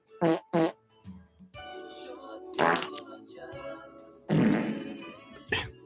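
Synthesized fart noises played like notes on a synth, several separate buzzy bursts of varying pitch and length, loud and close, with brief voice-like sounds in between.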